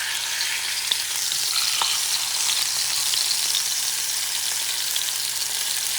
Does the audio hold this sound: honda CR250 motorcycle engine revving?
no